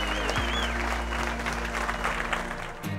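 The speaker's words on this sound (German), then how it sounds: "Bitte einen dicken Applaus für Nico" An audience claps for a winning driver, a dense steady round of applause heard over a low droning hum.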